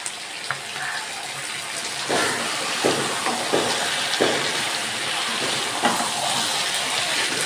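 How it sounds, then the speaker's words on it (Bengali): Raw mustard oil goes into a hot pan of tengra fish curry with green tomato and potato, giving a steady watery sizzle with a few sharper spits and pops along the way. "এবার আমি দেব একটু সর্ষের কাঁচা তেল দিয়ে দেব"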